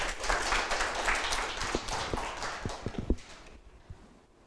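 A conference audience applauds after a presentation on AI in the beauty industry, dense clapping that holds briefly and then thins out into a few scattered claps before quiet.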